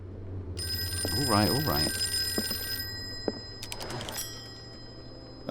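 An old-fashioned telephone bell rings in Call of Cthulhu, a harsh metallic trill in short bursts over a low hum, while a voice mutters during the ringing.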